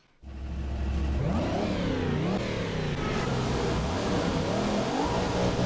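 V8 Supercar engine revving hard in the Toca Race Driver 3 racing game at Hidden Valley in the Northern Territory, a loud, close engine roar that rises and falls in pitch through quick gear changes and keeps going to the end, with no voices.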